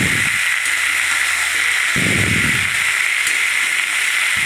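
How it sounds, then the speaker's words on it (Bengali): Green beans, eggplant and flat beans sizzle in a hot pan while being stirred, a steady loud frying hiss with a few scraping stir sounds. "সমস্ত রকম সবজি ছেড়ে এবার নাড়াচাড়া করে নেব"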